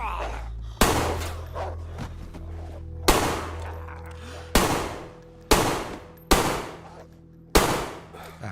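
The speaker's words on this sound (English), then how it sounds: "It's a lot of shots." Six loud, sharp gunshots from DayZ on the Deer Isle map ring out one at a time at irregular gaps of about one to two and a half seconds, each decaying quickly over a low steady hum.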